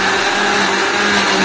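A mixer grinder grinding carrot and ginger whirs loud and steady, a continuous motor drone with no pauses.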